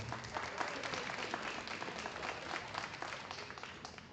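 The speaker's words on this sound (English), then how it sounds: "Let's go ahead and give these young people a nice round of applause." Audience applause for young exhibitors in a steer class at a livestock show, a dense, steady wash of clapping that holds for the full stretch with faint voices mixed in.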